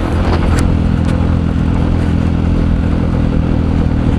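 A Yamaha WR155R motorcycle with stock tyres rides off-road on slippery dirt, its engine droning loud and close at a steady pitch, with clattering from the bike as it bounces over the rough ground.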